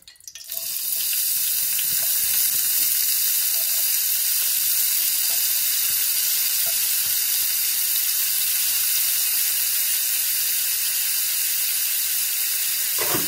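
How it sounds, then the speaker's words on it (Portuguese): Sliced leeks hit hot olive oil in a frying pan with a sudden onset, then a steady, bright sizzle and hiss that carries on evenly up close, with no talking. "Aqui à frigideira, eu vou juntar o azeite. Vou juntar o alho francês."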